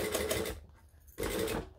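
A sewing machine stitching piping cord onto a bag runs slowly in two short bursts with a brief pause between, the motor whirring and needle clattering close by.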